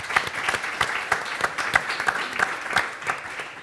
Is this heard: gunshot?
no